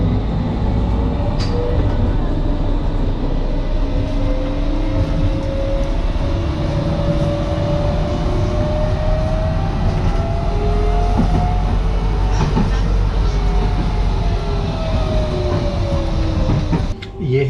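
A train in Zagreb rolls into a station with a loud, steady rumble and a low drone that slowly rises and shifts in pitch, heard from close by with a few faint clanks and no clear talk.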